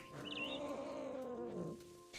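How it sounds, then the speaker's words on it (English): A drawn-out, growling cat yowl in the video game What Remains of Edith Finch, rising and wavering for about two seconds, close and moderately loud, with a faint electronic tone beneath. "It's doing that angry cat sound."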